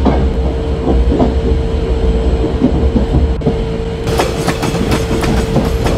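Indian train on the Konark Express route rolling through a track change, a steady rumbling drone with rhythmic wheel clicks and clacks that grow sharper and busier toward the end.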